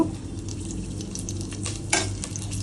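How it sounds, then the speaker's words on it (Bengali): A green chilli and a bay leaf sizzle in hot oil in a pan, making a constant crackling fry with a brief clink of a utensil partway through, and no speech. "তেলটা গরম হয়ে গেছে, আমি প্রথমে একটা কাঁচা লঙ্কা ফোড়ন দেব, তারপরে তেজপাতা দেব।"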